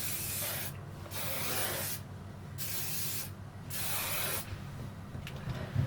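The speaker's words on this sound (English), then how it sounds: "shake the hairspray" A can of hairspray is sprayed in several short hissing bursts, each about a second long with brief quiet gaps between, up close and fairly loud.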